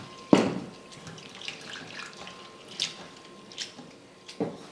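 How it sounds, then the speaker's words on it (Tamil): Flattened rice (poha) is rinsed with water in a vessel: a sharp splash near the start and another near the end, with a faint trickle of water between, close by and without speech. "ஒரு பாத்திரத்தில் சேர்த்துட்டு தண்ணி ஊற்றி ஒரு 2 முறை நல்லா அலசி ஊற்றிடலாம்."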